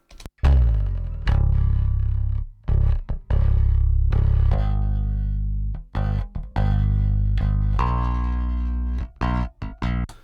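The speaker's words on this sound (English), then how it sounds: "the bass amp is connected right into the power soak." Clean bass guitar notes played through a bass amp into a power soak, with sustained low tones broken by short gaps and a few quick plucked notes near the end.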